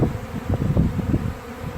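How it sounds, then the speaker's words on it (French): Dense, steady buzzing of a large swarm of hundreds of honeybees, close and continuous, with a low droning hum throughout. "Je vous laisse admirer et entendre le bourdonnement que ça fait."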